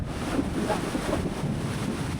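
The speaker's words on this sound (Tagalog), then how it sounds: "Masyadong malakas yung kidlat at ang ulan" Steady, dense roar of wind and pouring rain during a thunderstorm, constant and close to the microphone, with no voices.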